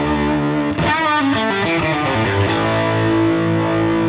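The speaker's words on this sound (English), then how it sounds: "that sound you're hearing right there is the sound of the Koch amp with a little bit of the overdrive channel on" Overdriven electric guitar through a Koch amp on the overdrive channel with slapback delay and no reverb, in a live room session, ringing out in loud sustained chords and a short run, with no voices.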